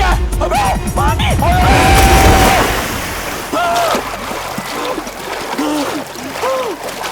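Someone jumps into water in a chaotic hotel comedy scene, a rushing splash under loud shouting voices, followed by more yelling and watery sloshing.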